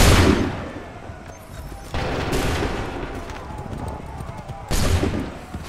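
Musket volleys and scattered gunfire rattle in Assassin's Creed 3 Remastered, with loud bursts at the start and again near the end over a continuous battle din, while voices call out orders.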